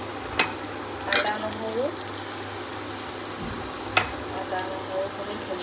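Ginger, garlic, green chili and tomato fry in a pot of oil for a one-pot egg biryani. A steady close sizzle runs throughout, broken by a few sharp stirring clinks.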